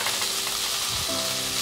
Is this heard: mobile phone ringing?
no